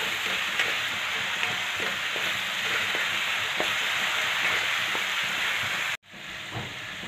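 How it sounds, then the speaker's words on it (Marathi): Green chili paste stir-fried in a pan until its heat mellows, a steady close sizzle and hiss with faint stirring scrapes, ending in a brief cut before the frying continues. "ते वाटण आपल्याला एकदम छान हिरव्या मिरचीचा तिखटपणा जाईपर्यंत आपल्याला असं छान परतून घ्यायचं आहे एकसारखं हलवत."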